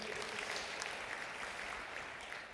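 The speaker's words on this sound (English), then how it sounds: "Clap your hands. Just one if you're here." An audience of business managers at a sales conference claps, a brief, dense patter of many hands at moderate distance, continuous rather than a single clap.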